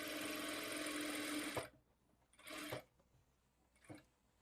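A sewing machine runs in a sustained burst as a layered frock is stitched at its joints, then gives two shorter bursts after pauses, close and fairly quiet.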